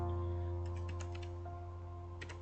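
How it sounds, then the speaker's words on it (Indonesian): A computer keyboard clatters with a short burst of key presses, then a second brief cluster after a pause, light and close over a steady electrical hum. "di sini kita ketikkan BGP"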